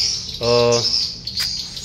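A swiftlet lets out a single short buzzy chirp close by, lasting under half a second, over a steady high hiss.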